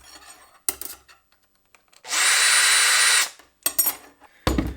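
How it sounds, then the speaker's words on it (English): A pipe for outdoor lantern wiring is deburred inside with a powered tool, giving a loud steady whir of about a second, framed by short scraping and rubbing knocks before and after. "You can see here is a burr inside the pipe which will damage the wiring in the future. So I will go ahead and deburr it."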